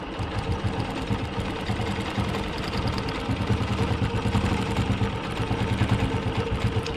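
A longarm quilting machine stitching a curved line guided by rulers, with a rapid, even mechanical chatter that carries steadily from start to finish, close and fairly loud.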